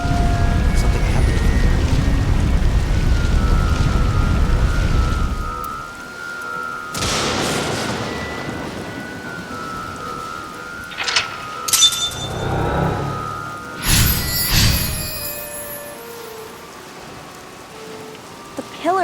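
A video-game storm: heavy rain hisses loudly at first, then lightning strikes a pillar with sharp cracks and booming bursts that recur amid lingering rumble and tonal effects.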